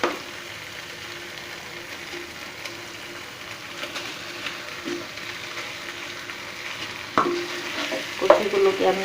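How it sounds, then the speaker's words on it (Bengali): Fried narkeli kochu (taro) pieces go into an oily, already cooked-down spice mixture, setting off a steady sizzle, with louder stirring clatters near the end. "এখন আমি মশলার মধ্যে ভাজা কচুগুলোকে দিয়ে দেব।"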